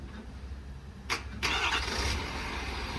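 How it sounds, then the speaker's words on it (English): A 2021 Ford F550 diesel mechanics truck with a crane cranks over briefly and fires up, settling into a steady rumbling idle close by. "Turn it back on, PTO re-engages, right back into running the crane."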